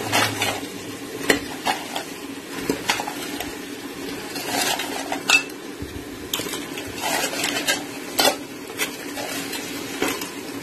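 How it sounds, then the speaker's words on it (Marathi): Washed crabs frying in spiced oil in a pan for crab curry, steady sizzling with repeated scrapes and clacks of a spoon stirring against the metal, close and continuous with no talking. "आता आपण जे धुवून घेतलेले खेकडे आहेत ते आपण त्याच्यात टाकूया"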